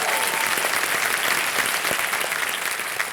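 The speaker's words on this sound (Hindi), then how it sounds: "जोरदार तालियां स्वागत में।" Studio audience on a Hindi TV quiz show gives loud, sustained applause welcoming two contestants, a dense steady clapping wash filling the whole stretch without letup.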